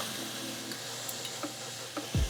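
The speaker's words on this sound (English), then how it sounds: "I'm gonna go ahead and add my vegetables in." Garlic sizzles quietly in an Instant Pot on sauté, with a few light clicks and scrapes of stirring as vegetables go in, and a louder thump right at the end.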